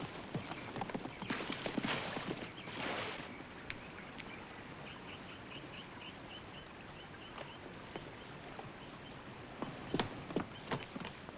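A horse's hooves clip-clop as it moves off across open ground in a Western setting. The hoofbeats are faint and irregular, and a soft background hiss runs underneath.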